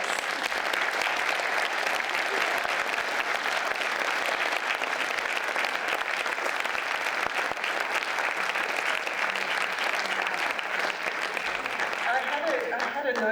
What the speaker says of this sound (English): could everybody give a warm round of applause to our panellists?